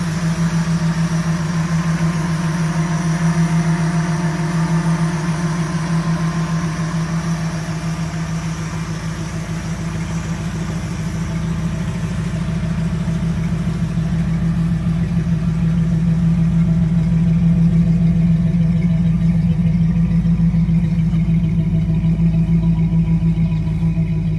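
A 1947 Ford Super Deluxe Coupe custom hot rod with a 302 V8 and automatic transmission idles steadily, a constant low rumbling drone with a strong hum that barely changes for the whole stretch, close and loud, with no talking.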